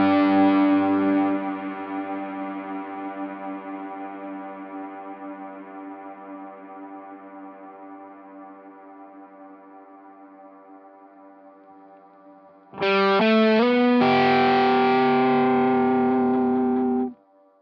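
A Walrus Audio Melee distortion and reverb pedal on electric guitar: a sustained chord rings and slowly decays, then the sustain button grabs a new chord into a thick, steady held pad that cuts off abruptly.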